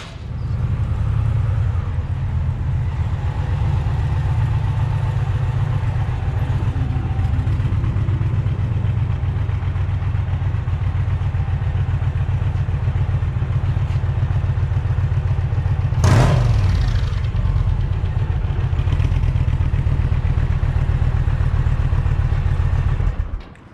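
An Indian Challenger motorcycle runs steadily and loudly close by for the whole stretch, its deep engine rumble even and unbroken, with a single brief sharp clack partway through and no talking.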